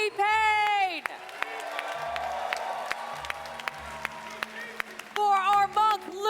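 Crowd at a live Dungeons & Dragons stage show at a gaming convention breaks into sustained applause and cheering between an announcer's spoken lines, loud and continuous for several seconds.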